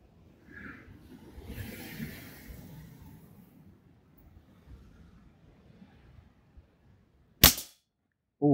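A single sharp crack of a Weihrauch HW97KT air rifle fired at a 25-yard target, loud and close after a quiet stretch of faint background rustle, with a second hit starting at the very end.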